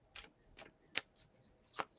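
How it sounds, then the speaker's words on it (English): Tarot cards being shuffled by hand, four or five soft, quick riffling bursts spaced about every half second, faint and close, with no talking. "still shuffling and thinking."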